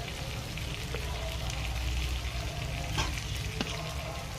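An egg fries in a hot pan with salt and chilli powder, giving a dense, steady sizzle with a few light clicks of a utensil on top, close and continuous, with no talk.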